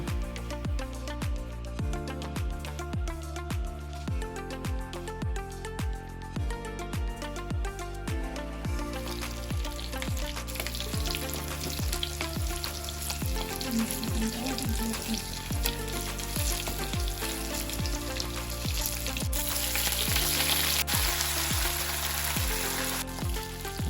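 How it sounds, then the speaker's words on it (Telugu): Tempering spices for a toor dal and fenugreek curry sizzle and crackle in hot ghee under steady rhythmic background music, the frying hiss growing fuller partway through. "నెయ్యి వేడెక్కిన తర్వాత కనిపిస్తున్న పోపుల దినుసులన్నీ ఒకటి తర్వాత అయితే ఒకటి వేసి బాగా ఫ్రై చేయండి"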